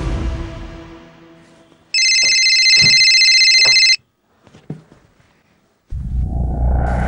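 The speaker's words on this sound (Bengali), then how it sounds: "ফোনটা ধরো।" A phone rings in a home with a single electronic ringtone burst lasting about two seconds, clean and fairly loud, followed by near silence with faint clicks, then a rush of background noise.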